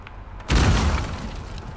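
A loud explosion in Uncharted 4 blasting a door open, one heavy boom that hits abruptly and decays into a rumbling crackle.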